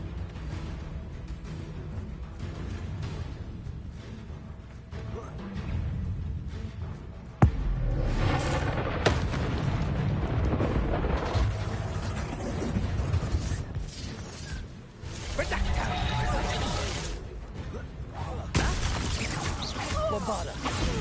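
Bombarda and Confringo spell explosions in Hogwarts Legacy, a dense, roaring wash of blasts and crashing debris that runs almost continuously, with a sharp hit near the middle and loud bursts layered under occasional voices.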